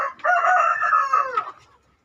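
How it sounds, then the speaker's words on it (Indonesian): A chicken in a coop lets out one loud, drawn-out call lasting just over a second, close by, then the noise fades into quiet. "Dan ayam-ayam pada ribut."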